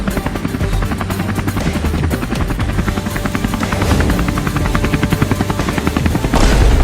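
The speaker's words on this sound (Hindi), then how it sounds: "बताओ, ये खटिया पर सोते हुए उड़ रहे हैं और हम इतने बड़े हेलीकॉप्टर से उड़ रहे हैं।" A cartoon helicopter flies in a Hindi animated comedy, its rotor chopping loudly and continuously with a rapid beating rhythm that swells slightly toward the end.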